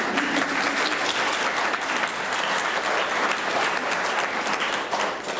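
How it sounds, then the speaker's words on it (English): Applause from the audience at a company staff meeting, a full, sustained round of clapping from many hands that continues evenly for over five seconds with no talking. "Or clap. You can do that too."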